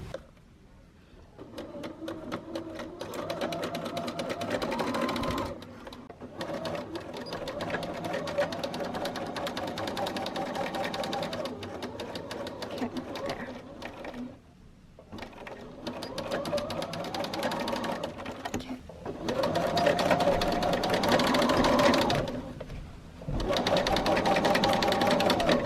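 A sewing machine stitches a dress closed in long steady runs of rapid mechanical chatter, stopping briefly a few times between passes, close and fairly loud with no talking.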